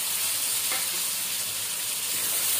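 Tomatoes sautéing in a pan for mutton varattiyathu give a steady, close sizzle with a faint stir or two, a continuous frying hiss with no talk.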